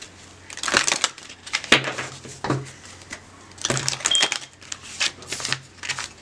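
Tarot cards being shuffled during a reading: a series of quick riffling, papery bursts in irregular clusters, close and fairly loud, with short pauses between shuffles and no speech.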